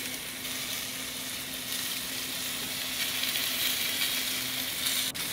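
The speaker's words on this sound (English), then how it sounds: "I'm going to put these marinated shrimp skewers right over the coals, cook them for just a couple minutes each side." Marinated shrimp skewers sizzling right over hot charcoal grill coals, a steady, moderately loud hiss with a faint tonal hum beneath and a small click near the end.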